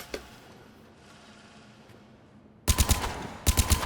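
Gun fired in Mass Effect 3, two quick bursts of loud automatic shots near the end after a quiet lull with a single faint shot at the start.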